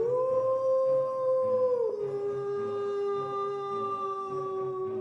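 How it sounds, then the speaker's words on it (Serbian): A wolf howls in one long, sustained, mournful tone, its pitch sliding lower about midway and then holding steady to the end. The howl is clear and alone, with no talk. "zašto je brdom odjekivao vučiji lavež"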